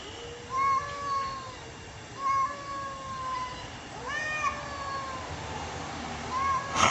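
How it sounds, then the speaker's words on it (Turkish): A cat meows several times in a row, each call a clear rising-and-falling tone, spaced about every one and a half seconds over steady background noise, moderately close. "Kadriye Orhan'ın kedisi."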